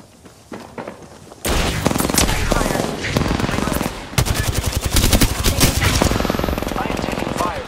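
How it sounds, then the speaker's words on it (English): Rapid machine-gun fire in a video game rattles loud and close in long bursts, with a short pause in the middle, alongside faint footsteps. "I am taking fire, friends. They spotted me. I'm taking shots."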